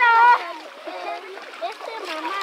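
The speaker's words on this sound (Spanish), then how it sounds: "Los niños se andan echando sus clavados." Children diving and splashing into river water in a rural ravine, with a loud splash at the start and excited children's voices carrying on throughout.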